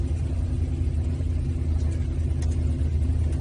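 A 1966 Ford GT40 pulling away, its engine giving a steady low rumble that stays close and continuous throughout, with no voices.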